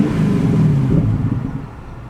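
Porsche 928 GTS, fully warmed up, with a smooth low exhaust rumble that swells slightly and then eases back during a short drive, steady and close with no talking.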